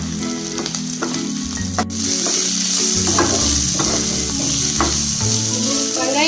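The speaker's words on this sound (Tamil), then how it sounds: "பச்சை மிளகாய் சேர்த்து நல்லா வதக்கிட்டு 1 நிமிஷம் வதக்கிட்டு" Green chilies sautéing in a pan for paneer keema dosa, a loud close sizzle with a sharp knock early on and rhythmic stirring strokes throughout.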